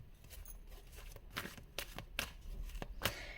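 Tarot cards are shuffled close by in quiet, sharp riffling bursts repeating irregularly over a few seconds, faint overall.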